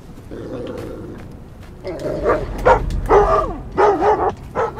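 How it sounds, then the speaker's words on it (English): A dog barks in the stealth video game Thief, several close, loud, sharp barks in an uneven rhythm over a low rumble of game ambience. "Hopefully the dog don't mess with me too much."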